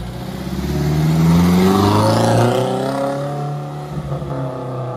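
A Ford Anglia fitted with a Weber carburettor revs up, its engine climbing in pitch to a loud peak, then settling back into a rough, throbbing idle with a few uneven blips near the end.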